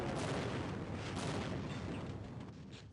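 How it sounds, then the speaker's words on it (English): Military bombardment in Half-Life: Uplink, a sustained, dense roar of explosions and artillery rumble, loud at first and easing slightly toward the end, with no talk. "The military bombards the area right after I jump the gate and kill the Marine there."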